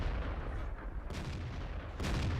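World of Tanks T69 tank cannon fire in gameplay: two sharp booming shots roughly a second apart, loud over a low rumbling background, no talking.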